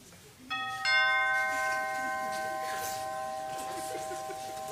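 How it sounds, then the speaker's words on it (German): A doorbell rings with two bright chimes in quick succession, the second tone lingering and slowly fading over a quiet indoor background. "Und Siegfried klingelt bei Fafnir."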